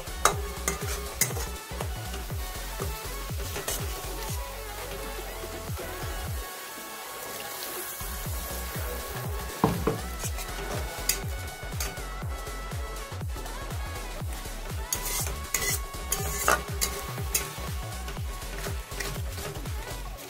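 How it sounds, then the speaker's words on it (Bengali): Spice masala for desi chicken being stirred and fried in a pan, a steady sizzle with continuous scraping and stirring strokes throughout, close and fairly loud, with no voices. "মশলাটা এবার ভালো করে কষাবো।"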